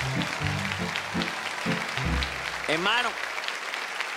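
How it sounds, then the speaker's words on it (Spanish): Studio audience on a Colombian TV talk show claps for a singer, moderate applause under someone speaking, fading near the end as his voice continues. "Un aplauso, hombre, excelente."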